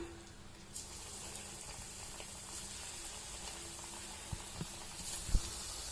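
Cauliflower pieces frying in hot oil for cauliflower manchurian: a soft, continuous bubbling hiss, with a few small knocks and taps near the end and no speech.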